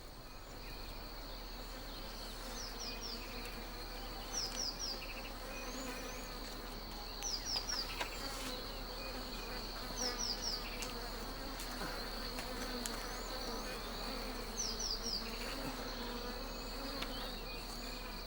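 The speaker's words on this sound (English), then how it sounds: "Mzegobi and Kilusu light torches to smoke out the bees and lessen their aggressiveness" Bees buzzing steadily around a tree nest as it is smoked out with torches in the open bush, a continuous insect drone with occasional louder passes, fairly distant and alone with no voices.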